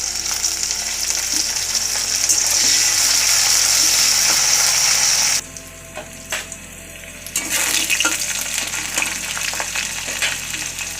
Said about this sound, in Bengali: পেঁয়াজটা লাল করে আমার ভাজা হয়ে গেছে